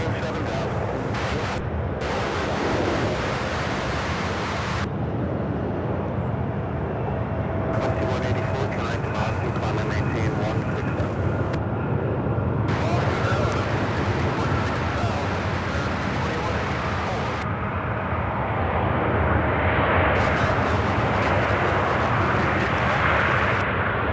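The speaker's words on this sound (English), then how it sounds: "Lufthansa 428 out of Munich, the A350, the only A350 we get here in Charlotte" Lufthansa's Airbus A350, flight 428 from Munich, at Charlotte Douglas airport gives a loud, continuous jet engine rumble and hiss, sustained throughout with slight swells in intensity.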